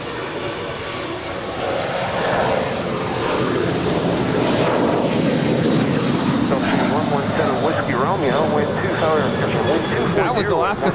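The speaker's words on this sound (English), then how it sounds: "That was Alaska 512 departing to Zihuatanejo, a 12-year-old 737-800" An Alaska Airlines Boeing 737-800, twelve years old, takes off from Los Angeles International Airport, its jet engine roar building loud and steady, then slowly shifting as it climbs away.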